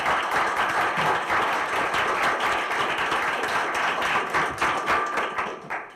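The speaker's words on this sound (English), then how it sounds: "Let's welcome our candidates and give them one big round of applause." An audience at a congressional candidate forum for Illinois's 12th District gives a big, sustained round of applause welcoming the candidates, dense clapping that holds steady and then tapers off near the end.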